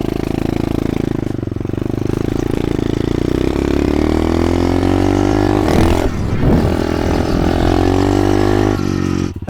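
A cheap Temu dirt bike with a CVT transmission runs while being ridden, its buzzing engine drone rising steadily in pitch as it pulls, with a brief rough burst partway through and a drop-off right at the end.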